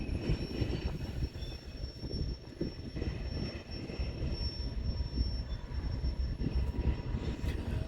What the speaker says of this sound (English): this was a unit train that was heading westbound on the Heartland Division